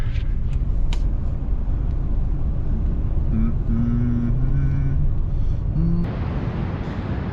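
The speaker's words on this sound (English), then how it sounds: "Always fun to drive on the beach." A car drives on a beach, giving a loud, steady low rumble of engine and wind throughout, with a few tonal whines in the middle and a shift in the noise near the end.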